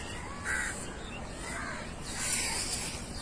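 A pet crow caws several times at close range, harsh calls spaced out over a faint background hiss.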